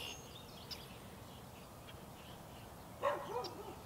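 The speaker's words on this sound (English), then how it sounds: "we do have a dog barking in the background who's getting in my video as much as he possibly can" In a city park, a dog gives a short bark late on. It is moderately loud and stands out against a steady outdoor background hum, with a faint earlier yelp and no talk.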